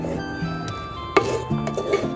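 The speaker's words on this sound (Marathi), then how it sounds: "तांदूळ आपल्याला चांगला परतून घ्यायचा आहे।" Soaked rice stirred and roasted in a pot of spiced tempering over a wood-fired stove for masale bhat, with scraping and clinking of a utensil against the metal pot, a few sharper knocks punctuating the steady stirring.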